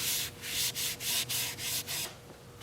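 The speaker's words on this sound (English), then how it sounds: "I do hear the grit working. You can probably hear it too." Abrasive grit rubbed into a maple burl bowl on a wood lathe makes a close, rhythmic scraping hiss in repeated strokes of about a third of a second each, then trails off.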